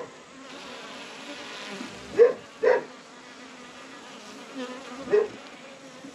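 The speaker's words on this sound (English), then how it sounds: "I like to listen to the sounds of that the bees make" Bees hum in a continuous close buzz at a beehive, a dense droning swarm with a few louder passing buzzes standing out.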